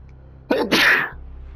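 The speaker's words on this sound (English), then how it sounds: "I'm gonna sneeze, okay?" A single loud, close sneeze bursts out sharply from a quiet background, then fades into low hum.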